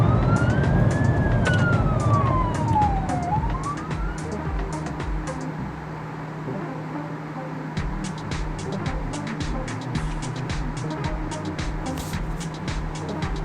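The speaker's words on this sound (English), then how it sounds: "The sirens of the police cars can be heard approaching." Police car sirens in a video game wail at a rising and falling pitch over a low engine rumble, then fade. Sharp, rapid clicks and ticks continue after the sirens drop away.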